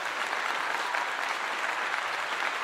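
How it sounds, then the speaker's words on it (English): A short burst of steady audience clapping during a college football pre-game breakdown, even and continuous with no voices on top. "Give him a clap."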